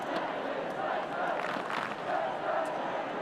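A large crowd of around 40,000 roars steadily through an Australian football match between Hawthorn and North Melbourne, a dense continuous wash of cheering that swells in places, with no clear single voices on top.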